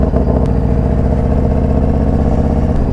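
Deep, loud, throbbing rumble of a 2023 Harley-Davidson CVO motorcycle V-twin engine running close by, steady and pulsing throughout.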